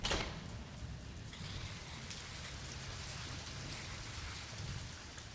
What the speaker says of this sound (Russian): Тебе повезло, что начинается дождь.